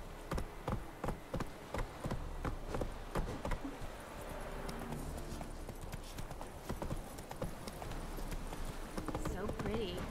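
Hooves of Roach, Geralt's horse in The Witcher 3, clip-clop steadily through a woodland setting, a continuous rhythmic trot under ongoing conversation between several people.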